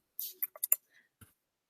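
Brief bursts of computer keyboard typing, a handful of quick clicks and taps close by, then a pause and one more soft keystroke, with no talking over it.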